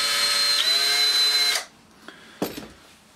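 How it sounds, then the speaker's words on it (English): A power drill set to its slowest forward speed for tapping threads whirs with a steady tonal whine for about a second and a half, then stops, leaving a quiet room with a couple of faint clicks and a short knock. "And we've also put the drill on a slow speed, which is number 1."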